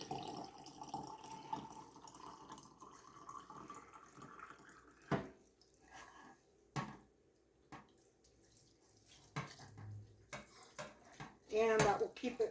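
Water trickles and splashes as homemade butter is rinsed in a bowl, with clinks of a dish or utensil and scattered drips in a quiet kitchen.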